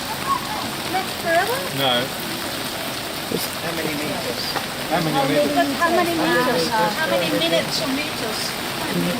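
Steady rain falls outdoors during a trip in Japan, a constant hiss under people chatting close by throughout.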